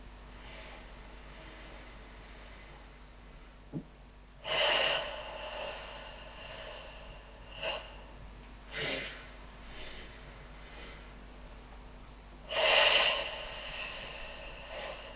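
Deep, forceful breaths come in several separate bursts during a Pilates-style workout, some sharp and snorting and some longer exhales, with quiet pauses between them and no talking.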